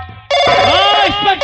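A telephone rings loudly and close by in a bright, sustained electronic tone that swells and wavers, following a quieter lead-in. A voice talks under part of the ring.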